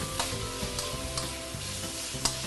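Chicken and carrot sautéing in oil in a pan for a ginger and rice wine chicken stew, a steady close sizzle with occasional stirring scrapes and clinks, no talking.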